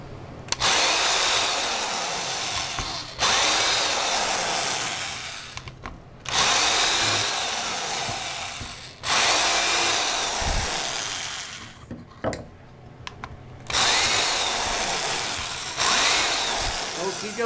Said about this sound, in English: So now I'm going to do the 1/8 inch hole to finish the